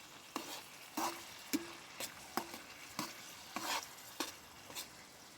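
Chicken sizzling in plenty of olive oil in a pan, a steady faint hiss broken by about ten regular scraping stirs of a utensil against the pan.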